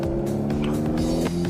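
A very loud motorcycle exhaust in a pit lane gives a brief close, steady throaty drone, one of the world's fastest bikes, with no speech over it.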